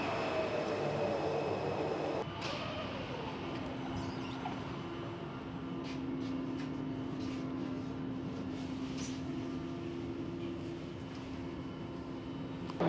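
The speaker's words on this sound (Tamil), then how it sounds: "நம்ம போக வேண்டிய ட்ரெயின் வந்துருச்சு." A metro train in Poland rumbles steadily in a station, with a sudden shift in pitch as it pulls in and a low sustained hum continuing over ambient noise.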